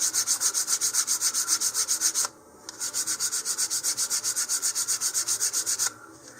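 Sandpaper rubbed back and forth along the edges of a model rocket part to taper them, a fast regular rasping rhythm of about three strokes per second, close and loud, with one brief pause and no talking.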